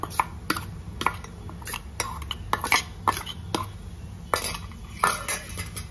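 A mixture of fresh lima beans and raw plantain is stirred in a pan, with regular sharp clinks and scrapes of a spoon against metal over a low background rumble, no talk.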